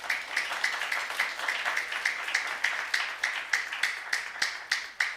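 A church congregation at a youth service claps in a steady, rhythmic beat, the clapping fairly soft and distant with no talk over it.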